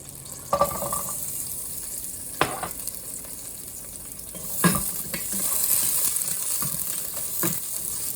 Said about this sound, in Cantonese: 放啲油落去先， 爆香嗰啲薑蒜乾葱